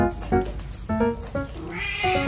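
An affectionate cat meows repeatedly up close, a run of short, clear, rising and falling mews in quick succession with no talking.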